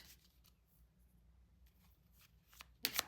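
Tarot cards shuffled and drawn at a reading, soft faint rustles and light taps through most of the span, ending in a louder sharp snap of cards near the end.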